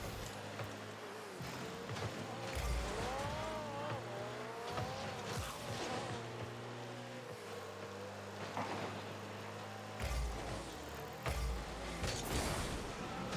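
A game car in Fall Guys drives with a steady engine drone, rising and falling revs and tyre squeals, alongside a constant background music layer with no speech.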